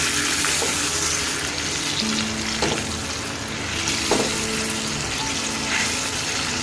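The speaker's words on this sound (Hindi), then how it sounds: "देखिए हमने चिकन डाल दी है सारी इसके अंदर, इसको फ्राई करते हैं।" Chicken pieces fry in a pan for a smoky yogurt chicken dish, giving a steady, close sizzle throughout with a few brief stirring clicks and no talking.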